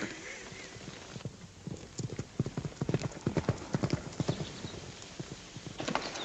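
Steady clip-clop of horse hooves on a hard surface in a 1937 western film, a rhythmic run of close, distinct hoof strikes with a faint background hum.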